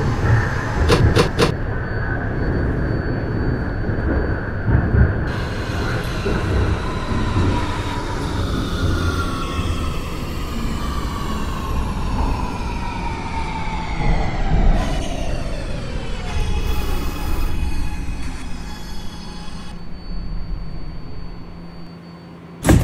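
An R211A subway car on the A train in the OpenBVE simulator, running steadily on track with rumbling wheels and rising and falling motor whine, plus sharp high tones and clicks near the start and a thud at the end.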